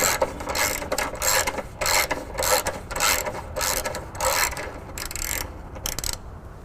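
A thread cleaning tool winds through a rusted, corroded weld nut, making a close, loud grinding and ratcheting scrape in repeated bursts as it turns in and back out.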